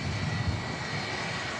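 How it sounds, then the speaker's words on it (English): An EasyJet airliner taxis at Manchester Airport on a windy day, its jet engines giving a steady, close rumble and hiss with no voices. "The EasyJet is now moving and it's passing the Emirates A380 as well."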